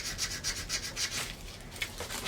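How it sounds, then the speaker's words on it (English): Steady rhythmic rubbing of sandpaper by hand on wooden furniture being refinished, close by, with repeated back-and-forth strokes and no talking. "I'm just going to keep sanding until I have the whole thing clean"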